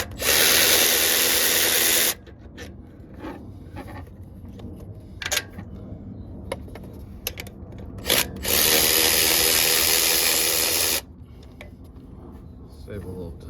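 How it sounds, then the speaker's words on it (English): A Makita power tool whirs loudly in two long bursts during a timing chain replacement, the first about two seconds and the second about three, with quieter clanks and shop noise between them. "We're busting out the Makita."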